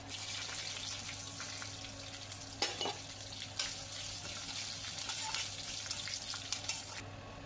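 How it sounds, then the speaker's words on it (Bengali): Chana dal, peanuts, black cumin, curry leaves and whole chillies fry in white oil in a kadai for upma chutney. A faint, even sizzle carries on throughout, broken by a few light knocks of stirring. "এরপর কড়াইয়ে সাদা তেল দিয়ে ছোলার ডাল, বাদামের সাথে কালো জিরে ও কারিয়া পাতা আর গোটা লঙ্কা দিয়ে কিছুক্ষণ ভেজে নেওয়া হলো।"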